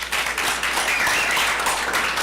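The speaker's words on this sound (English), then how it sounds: "just give Brock and all that made tonight happen a big round of applause" Audience applause closing out a fall varsity athletics awards ceremony, a steady dense patter of many hands clapping throughout, fairly loud and even with no talk over it.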